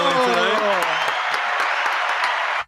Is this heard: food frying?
no